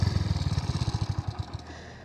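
A 27-year-old Hero Honda Splendor Plus single-cylinder engine, running on E20 ethanol fuel, idles close by with a rapid, even putter that gradually weakens and fades out as it dies down.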